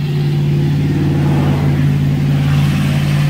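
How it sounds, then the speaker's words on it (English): Steady engine rumble of passing traffic with a low droning hum, continuous and fairly loud throughout. "traffic is noisy today"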